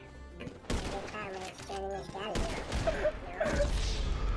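Gunfire during a GTA 5 online gang shootout, scattered shots mixed under excited Portuguese voices talking over the action.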